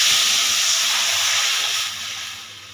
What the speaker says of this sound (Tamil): எண்ணெய் ஊற்றுறோம். குழம்பு தாளிச்சுடுறோம்.